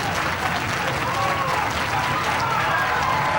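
A wrestling arena crowd cheers and applauds as a wrestler rallies the fans, producing a dense, continuous roar of clapping and shouting that holds steady throughout.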